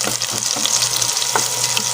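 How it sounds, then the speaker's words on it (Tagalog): Garlic sautéing in a hot pan for chicken sotanghon, a steady close sizzle and crackle of frying with faint stirring, no voices. "Gisa na yung bawang,"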